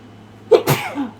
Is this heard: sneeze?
yes